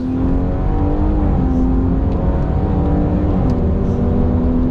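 Car lapping a track on Yokohama AD09 tyres, 235 section at the front, a loud, steady engine drone heard from inside the cabin, with pitch shifting slightly through gear and throttle changes and no voices.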